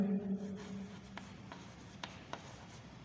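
Chalk scratches and taps on a board during a geography lecture, a few short sharp strokes spaced apart, quiet and close, following a brief low voice at the start.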